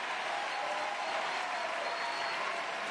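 A partisan crowd at a men's doubles wheelchair tennis semi-final, Great Britain against France, bursts into steady applause, a dense wash of clapping that holds evenly throughout.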